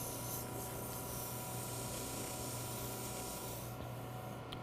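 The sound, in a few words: sanding a wooden Christmas ornament on a lathe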